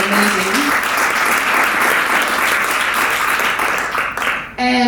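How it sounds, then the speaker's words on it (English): Loud, full applause from a conference audience in Bucharest, thanking the speakers. It is dense and sustained and fades briefly near the end as a voice begins speaking. "So please give them a round of applause"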